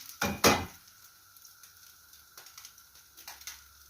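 Leftover cooked pasta fries in a pan, giving a soft, faint sizzle. A couple of sharper clatters come at the start, followed by light ticking crackles.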